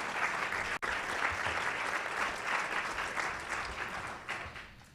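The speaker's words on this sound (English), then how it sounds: "Please give them a round of applause." A luncheon audience at the National Press Club applauds panel guests, a sustained wash of many hands clapping at an even level that eases off slightly toward the end.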